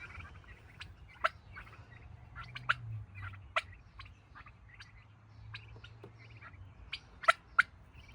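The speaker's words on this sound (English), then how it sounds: "Turkey's first afternoon outside." Turkeys on grass outdoors gobble and call at a moderate distance, with scattered sharp clucks and a few louder bursts over a low outdoor rumble.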